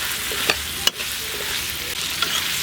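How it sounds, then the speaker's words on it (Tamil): Vegetables including brinjal sauté in oil for sambar, a bright, steady sizzle broken by a few sharp clinks of a spoon stirring in the pan. "காய் பாருங்கள் எண்ணெயில் இந்த அளவுக்கு நல்லா வதக்கிக்கிறேன்"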